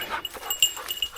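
A hunting dog out on a woodcock and wild pigeon hunt, giving short close whimpers and yips in a quick run of brief calls.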